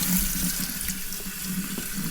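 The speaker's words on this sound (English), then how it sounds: "I've almost ran enough water through it that I'm willing to flip it over now." Tap water running steadily through a Harley Davidson air filter held under a faucet, a close, continuous rushing and splashing with a low drumming tone and no talk.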